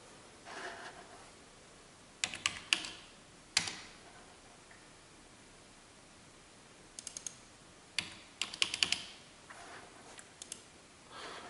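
Typing a value on a computer keyboard, heard as sparse bursts of sharp key clicks and taps separated by quiet pauses, close and fairly crisp against a low hiss.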